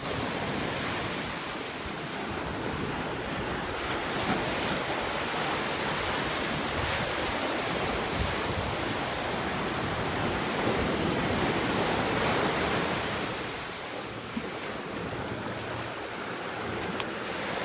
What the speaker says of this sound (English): The waves will be loud.